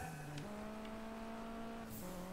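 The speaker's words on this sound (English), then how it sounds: "we're back with a little bit of audio for the cars" Juiced 2 race car engines drone with a steady, faint tonal hum that steps up in pitch with gear changes, and a brief hiss of tire noise near the end.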